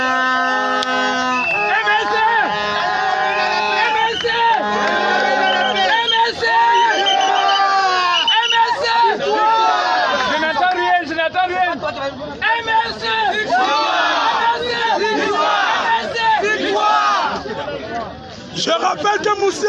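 A political rally crowd cheers and gives an ovation for arriving guests, a dense loud hubbub of shouting voices with horn-like toots early on, sustained before tapering briefly near the end.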